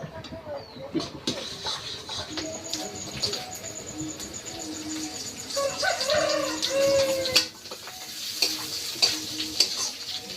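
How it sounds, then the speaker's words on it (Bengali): Green chili, bay leaf and onion sizzle as they temper in hot oil, a steady close frying hiss with stirring scrapes, while birds coo and chirp in the background. "কাঁচা লঙ্কা তেজপাতা পেঁয়াজ ফোড়ন দিয়ে দিয়েছি"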